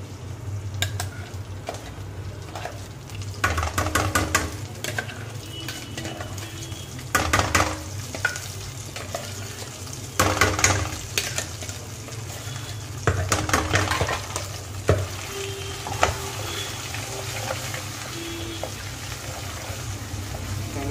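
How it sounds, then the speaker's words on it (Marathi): Paneer tikka masala gravy with ginger-garlic paste frying in a pan, a steady close sizzle broken by bursts of stirring and scraping from a spoon against the pan, with no talking. "मिक्स करून घेतो मी एक तीन चार मिनटं आपण ग्रेव्हीला फ्राय करायचं आहे"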